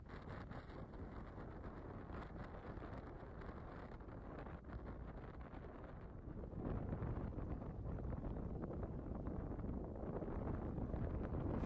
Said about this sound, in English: We're sailing down the Pamlico Sound on a very, very broad reach on a breezy day.